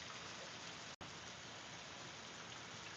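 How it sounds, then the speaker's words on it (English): Heavy rain falls outdoors in Florida, a steady, dense hiss of drops that continues without a break for the whole stretch, with a single instant of dropout and no talking. "It's raining hard as hell out here"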